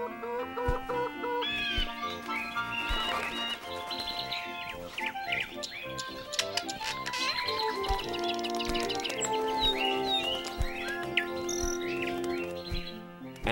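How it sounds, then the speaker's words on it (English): Cartoon bird calls from a Beginners Bible animated episode, steady chirps, tweets and clucking rooster-like calls layered over continuous bright music throughout, with no talking. "And more birds."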